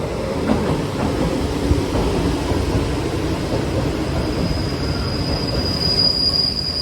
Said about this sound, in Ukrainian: а це поїзд на Лісабон